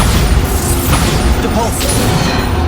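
Bombarda explosion spells in Hogwarts Legacy burst with loud, dense booms and crashing debris, one blast running into the next with no quiet gap.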